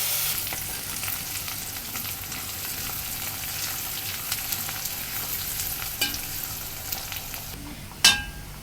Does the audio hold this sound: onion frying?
yes